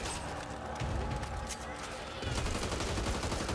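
Rapid bursts of firecrackers crackle loudly throughout a shooter video game, dense popping with mechanical clatter running nearly continuously and swelling toward the end.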